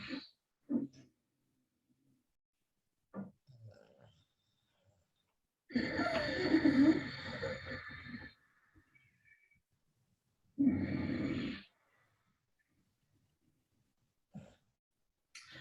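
Ujjayi ocean-breath exhales through a constricted throat come as two close, raspy, hushing breaths, one long and one shorter, with brief quiet gaps and small breath sounds between them.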